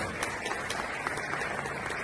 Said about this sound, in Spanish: Y un fuerte aplauso para nuestro colega Luis Farandulero.